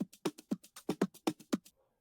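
An Afro House percussion loop plays alone: a steady, punchy pattern of drum hits at roughly even spacing, about a dozen strikes over two seconds, close and loud, ending abruptly.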